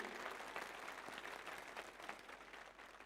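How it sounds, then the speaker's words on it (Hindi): Crowd applause in tribute to Bhagat Singh during a patriotic address in Ujjain, a dense continuous clatter of many hands heard from a distance, steady and fairly faint throughout. "तालियां बजनी चाहिए भगत सिंह के लिए।"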